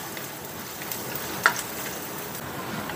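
Garlic frying in a hot pan (kawali), a steady close sizzle with soft crackles and a brief sharp pop partway through, with no talking.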